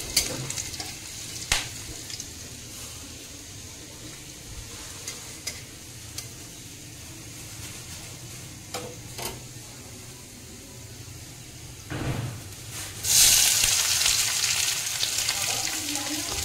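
Garlic, cloves and chopped onion fry in a pan for a pasta dish, a low steady sizzle with occasional sharp utensil knocks and stirs, then a louder burst of hissing near the end, close by and without speech.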